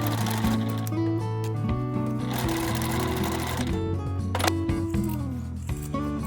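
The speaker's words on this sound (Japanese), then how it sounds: "ミシン線より外側を縫います。" A sewing machine stitching a tote bag made from fabric scraps, running in close, continuous mechanical bursts with rhythmic whirring and clicking, pausing briefly between runs.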